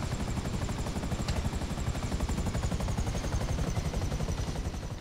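Helicopter landing on a steep hillside in the video game GTA V: dense, loud rotor chop with a rapid, steady beat filling the whole stretch, close and continuous with no talking.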